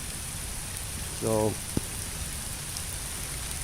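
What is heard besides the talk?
heavy rain falling outdoors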